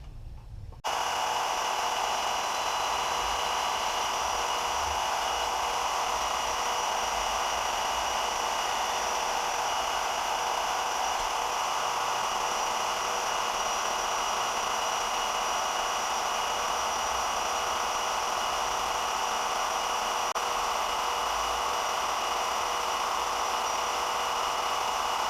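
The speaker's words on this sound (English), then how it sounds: "I'm going to use a combination of this bandsaw and an angle grinder to get this into a shape" A bandsaw and an angle grinder shape a metal part to fit over the nut holding a fan on; a loud, steady, broadband whine of cutting runs continuously from start to end, close up and without talk.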